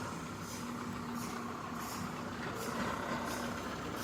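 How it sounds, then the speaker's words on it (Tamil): Commercial truck arriving at a used vehicle lot in Tirupur, Tamil Nadu, a constant low engine rumble with a faint rhythmic hiss above it, steady and moderately distant. "பாருங்கள், அடுத்த வண்டி இப்போ வந்துகிட்டு இருக்கு."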